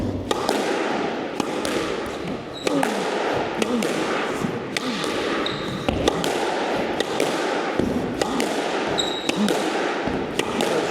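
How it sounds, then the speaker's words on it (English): A squash ball is struck hard and low in repeated backhand drives, sharp loud cracks roughly every second echoing off the court walls, with squeaks of shoes and faint talk between hits. "I'm just trying to hit the ball really hard, really low, and quite fast"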